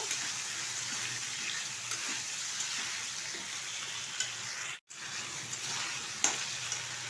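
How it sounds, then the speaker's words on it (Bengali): Potatoes fry in oil with ground cumin, ginger and tomato, a constant bright sizzle heard up close with faint stirring scrapes, a brief dropout midway, and no voices. "এখন এর মধ্যে দিয়ে দেবো বেটে রাখা জিরে, আদা আর টমেটোটা আমি টুকরো করে কেটে নিয়েছি। এখন ভালোভাবে কষিয়ে নেব।"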